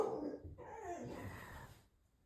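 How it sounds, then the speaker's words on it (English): A puppy indoors gives a short, muffled bark and growl at something outside the window, brief and fairly close. "I will apologize if you can hear my puppy barking."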